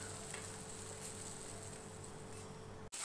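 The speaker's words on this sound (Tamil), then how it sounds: "சேர்த்துட்டு நல்லா வதக்கி விட்டுறேன்" Onions, capsicum and green chilli sautéing in a pan for a mixed vegetable curry, a faint steady sizzle under a low hum, cut by a brief sharp click near the end.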